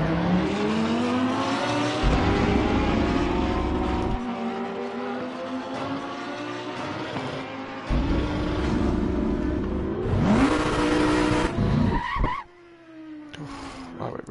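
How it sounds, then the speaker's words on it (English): Race car engine in Assetto Corsa Competizione, revving hard through repeated upshifts with rising pitch and gear changes, a loud close onboard roar with tire squeal, easing off near the end. "faster car coming up behind"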